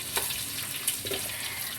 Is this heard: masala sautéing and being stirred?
yes